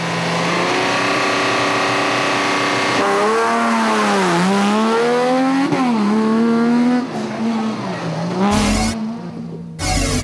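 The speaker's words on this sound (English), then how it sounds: "with Anthony Taylor and Robin Houghton setting off third on the road in the second Team Castrol Toyota Hilux" Second Team Castrol Toyota Hilux rally car pulling away at the start of the Adenco 400, its engine loud and close, revving hard through rising and falling gear changes with a brief tyre-and-gravel burst near the end.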